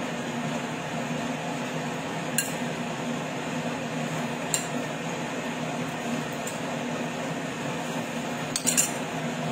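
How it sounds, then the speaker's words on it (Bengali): Eggs fry lightly in a hot pan for an egg korma, giving a steady broadband sizzle throughout with a few sharp utensil clinks against the pan. "আমি প্যানে ডিমগুলো হালকা করে ফ্রাই করে নিচ্ছি।"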